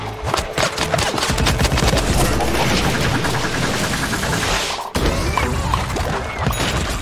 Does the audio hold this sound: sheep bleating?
no